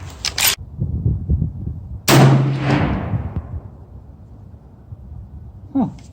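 Two sharp shots from Browning BAR deer rifles in .308 and .358, fired open-sight from a bench at 25 yards outdoors; loud cracks about a second and a half apart, the second with a long fading echo, over low background noise.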